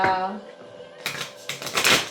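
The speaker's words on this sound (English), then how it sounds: "let's shuffle them a couple times" A deck of cards is shuffled, producing rapid fluttering riffles in several short bursts after a moment of quieter sound, close up and crisp.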